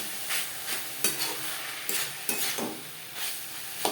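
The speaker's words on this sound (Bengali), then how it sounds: "সুগার পাউডার ফোরের সাথে বেশ ভালো করে মিক্স করে দেব" Powdered sugar is stirred into flour in a hot pan while making banana-stem fry, a soft hiss behind a run of rhythmic scraping strokes, about ten in four seconds.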